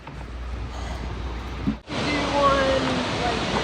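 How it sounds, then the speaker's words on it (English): White Waterfalls on a forested hiking trail give a steady broadband rush, continuous and fairly close, with a brief dip midway and faint talk around it. "Wow, that is a beautiful waterfall."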